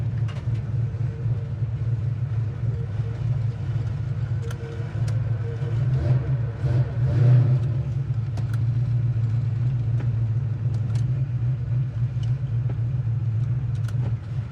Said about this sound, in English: our idle, it's got a little lopey cam at about 600 to 800 is where our idle kind of fluctuates a little bit